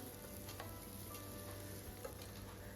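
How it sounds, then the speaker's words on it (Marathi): Onion and garlic fry in a pan for a village-style vegetable dish, a steady soft crackling sizzle with faint stirring scrapes, continuous and fairly quiet with no talking. "त्यामध्ये मी कांदा टाकून तोही मस्त परतो"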